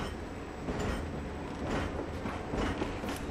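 A train rolls along in the video game Valkyria Chronicles, giving a steady broadband rumble with rhythmic clacking swells, continuous and fairly close, with no talk over it.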